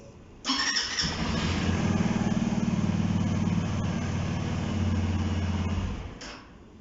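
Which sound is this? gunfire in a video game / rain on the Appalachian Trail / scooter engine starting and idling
scooter engine starting and idling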